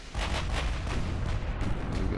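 Rapid rumbling booms of heavy naval artillery in the video game Ultimate Admiral: Dreadnought, a dense barrage of deep blasts rolling continuously without pause.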